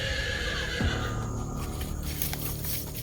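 A horse whinnies loudly and close by, a rising then falling neigh over a busy, noisy outdoor background.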